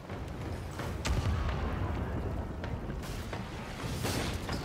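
A ship's aft cannons fire during naval combat in Pillars of Eternity 2: Deadfire, sending out several heavy booms at irregular intervals over a low, rumbling background with creaking mechanisms.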